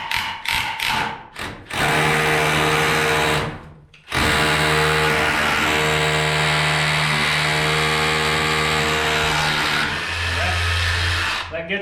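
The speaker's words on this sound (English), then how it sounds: "I'm going to hammer drill a hole through the box into the concrete behind the ICF." A hammer drill bores through an electrical box into the concrete behind an ICF wall, grinding loudly and continuously for about eight seconds after a few short bursts, close to the microphone.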